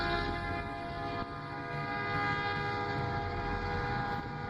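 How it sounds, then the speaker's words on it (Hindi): Train passing, a loud, sustained rumble with steady tonal horn-like hum that rolls on throughout without talk. "15 मिनट बीते तो दूसरी ट्रेन की आवाज आई"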